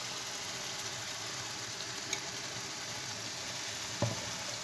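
Ground meat frying in a pan with tomato coulis, a steady close sizzle running evenly throughout, with a couple of brief clinks or scrapes.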